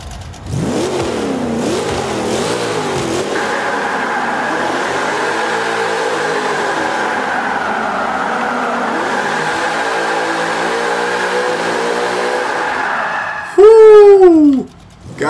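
Car engine in Forza Motorsport 5, a drift build at the Bernese Alps track, holds a steady, loud idle drone for most of the time, then revs in a sharp rising and falling burst near the end, with a voice talking over the start.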